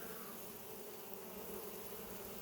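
Honeybees inside an open hive, workers and drones together, make a dense, steady buzzing hum, close and continuous without pause.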